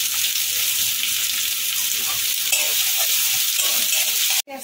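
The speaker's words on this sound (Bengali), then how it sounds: "পেঁয়াজ রসুন কাঁচা লঙ্কা একসাথে দিয়ে দিলাম। হালকা করে একটু ভেজে নেবো" Onion, garlic and green chilli sizzle in hot oil in a wok, a dense continuous crackle with occasional stirring scrapes, close and steady, ending in a brief sharp clack.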